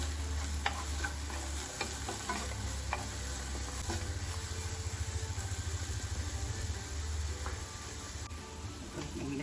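Okra fry with pepper and curry leaves crackles softly in a pan while a utensil stirs it, with light scraping and a steady low hum behind, fairly quiet and close, no speech.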